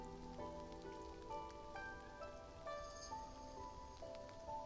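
Rain falls softly and steadily in a mobile game scene, a faint patter of drops under gentle musical tones, with no voices.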